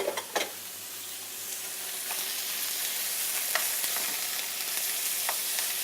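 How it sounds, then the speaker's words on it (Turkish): Beef drops into a smoking hot pan for chimichanga filling, with a sharp burst of sizzling at first that settles into a loud, continuous frying hiss and a few faint clinks, no voices. "Ondan sonra etimizi içine ilave ediyoruz."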